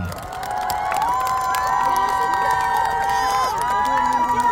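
An audience at a military band and honor guard ceremony at the national cemetery cheers and shouts after a performance, a dense crowd roar with high excited voices and applause sustained loudly throughout.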